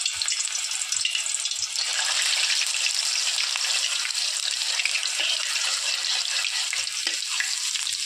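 Chopped garlic dropped into hot oil in a pan for veg chow, a bright continuous hiss and crackle that stays loud and even, with a few faint low knocks underneath.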